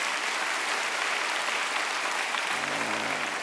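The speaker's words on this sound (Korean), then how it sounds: "집에서 오손도손 모여서 예배 드리는 분에게 박수 한번 보내주십시오." A church congregation at a Korean worship service applauds steadily, a dense, even wash of clapping heard from a distance, with a faint voice beginning near the end.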